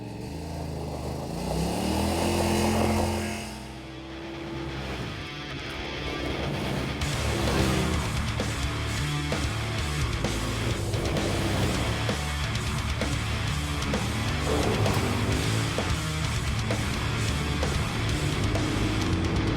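A 2021 Yamaha Wolverine RMAX 1000 XTR side-by-side driving in D-Mode, its 1000cc engine droning steadily with revs rising and falling, loud and continuous throughout with no talk.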